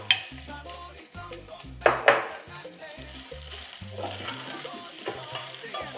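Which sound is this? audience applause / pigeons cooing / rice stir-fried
rice stir-fried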